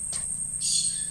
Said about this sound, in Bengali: পাখিগুলো কিচিরমিচির কিচিরমিচির করছে বড় আমাদের এখানে